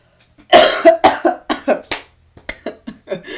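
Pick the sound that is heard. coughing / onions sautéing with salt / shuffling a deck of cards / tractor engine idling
coughing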